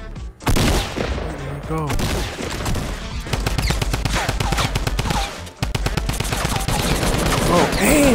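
Gunfire in the video game Fortnite plays as rapid bursts of loud shots in quick succession. A player speaks briefly over the shooting, and the firing goes on with short gaps.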